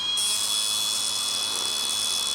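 An angle grinder works down a Dana 60 axle nut tool to clean up its thread, giving a steady, loud high-pitched whine that holds for the whole stretch after a quick spin-up.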